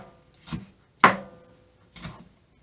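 A knife slicing steak into pieces on a cutting board, three separate cuts about half a second apart, the middle one sharpest and loudest, close and alone.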